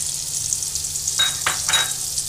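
Asafoetida, cumin and whole spices sizzle in hot oil, a steady bright hiss broken by three short louder crackling bursts as the spices are stirred.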